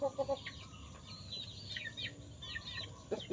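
A mother hen with her chicks clucks low near the start and end, while the chicks' high, thin cheeps chirp repeatedly in between over quiet outdoor background.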